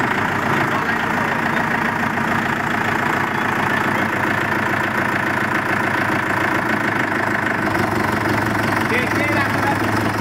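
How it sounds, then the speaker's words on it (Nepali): A new Mahindra tractor idles close by with a steady, throbbing mid-low rumble that runs throughout. People talk faintly in the background. "अब यो ट्र्याक्टर आज घर जान्छ।"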